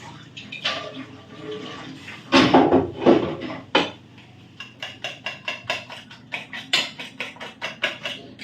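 A heavy metal wok clanks down onto a stovetop with a few loud knocks, followed by a run of light rhythmic clicks and taps nearby.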